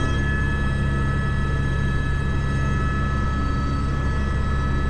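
Helicopter in flight during a sling-load concrete lift, a loud, steady, unbroken drone of engine and rotor with persistent tonal whine, nearby and constant throughout.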